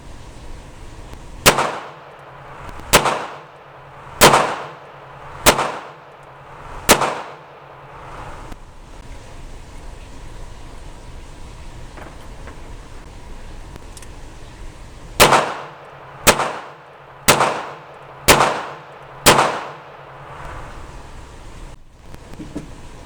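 An NAA mini revolver fires .22 Magnum rounds in two strings of five sharp, loud shots each, evenly spaced, separated by a quiet pause for reloading.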